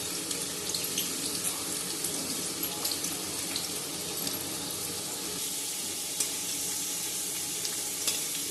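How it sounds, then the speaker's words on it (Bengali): Potatoes fry in a pan for an ash gourd greens dish, giving a steady, dense sizzling hiss that runs without a break, with a few faint clicks and stirring scrapes near the mic. "আলুগুলোকে ভেজে নিচ্ছি।"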